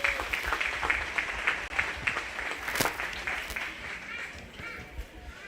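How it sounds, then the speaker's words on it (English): Spectators at a 4-H and FFA cattle show applaud the young exhibitors with a steady round of clapping from many hands that fades slightly toward the end, with faint crowd murmur beneath. "So let's give them a round of applause again"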